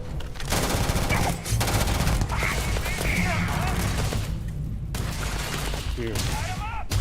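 Rapid automatic gunfire from a Starfield firefight, dense and loud bursts filling most of the stretch, with a short break and a voice speaking beneath the shooting.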